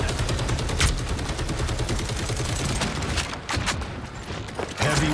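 Rapid heavy-weapons gunfire rattles in the shooter video game Marvel Rivals, dense continuous bursts of shots with brief gaps, loud throughout.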